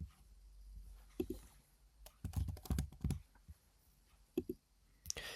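Soft, irregular clicks of typing on a computer keyboard, a few short clusters of keystrokes separated by pauses, close and quiet.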